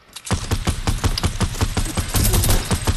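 Sniper and automatic gunfire in a multiplayer shooter video game come as a loud, close, rapid burst of shots. Sharp repeated cracks carry on through the whole stretch, with no talk over them.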